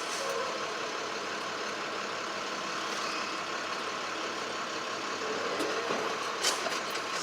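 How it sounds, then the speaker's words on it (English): A heavy truck rolls slowly under 5 mph during a California CDL air brake test in Oakland, its engine a steady low rumble with a continuous broadband hiss, and a brief sharper burst near the end. "I'm slowly going to move the truck no more than 5 miles per hour"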